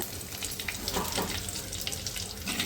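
Dried red chillies and fennel seeds sizzle and crackle in hot oil in a pan, a steady, fairly quiet frying hiss with small pops throughout.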